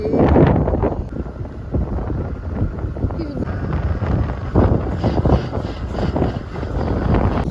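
Wind gusts across a hill road, rumbling and buffeting close against the microphone as a steady rough roar, with voices faintly underneath.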